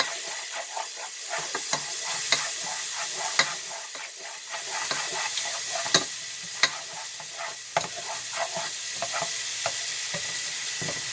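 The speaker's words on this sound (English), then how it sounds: "I'm going to let these onions cook for a couple of minutes so they can soften." Onions fry in a pan with a steady sizzle while a utensil stirs them, clicking and tapping against the pan at irregular intervals, close up with no talking.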